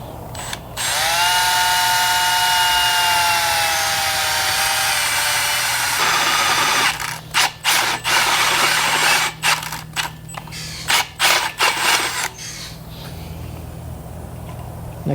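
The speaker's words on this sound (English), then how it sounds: "The last thing is going to be drilling some holes" A drill bores holes in a welded steel engine stand, first a loud steady whining run, then a series of choppy bursts and stops as the bit bites and releases, close by.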